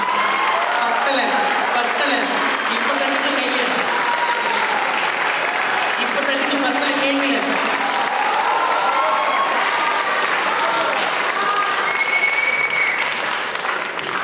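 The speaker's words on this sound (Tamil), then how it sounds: "ஒரு பெரிய கைத்தட்டல் கொடுக்கலாமா?" Audience at the Miss South India Trans Queen 2024 pageant gives loud, sustained applause with scattered cheers, while voices and music carry on underneath.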